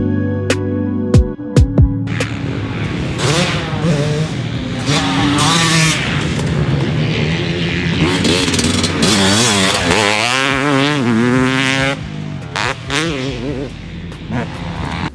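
A 2020 Yamaha YZ325 two-stroke motocross bike, a race-winning build, blips with sharp revs, then screams through repeated rising and falling throttle sweeps up close, loud and raspy, with no talk over it.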